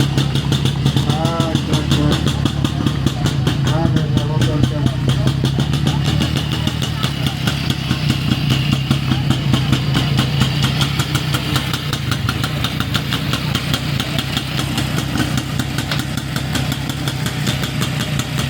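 A new rally motorcycle at an exhibition rally event in Senec runs nearby with a steady, rapid engine pulse and mechanical knocking, while voices and crowd sounds carry on over it.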